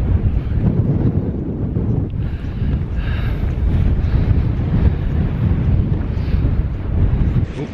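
Gusty wind buffets the microphone steadily throughout a countryside walk between villages, a loud continuous low rumble with no talking.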